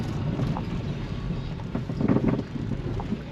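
A car drives through hilly mountain country with red dirt roads in Ghana, a soft continuous road rumble and wind noise buffeting the microphone, fairly quiet with no voices.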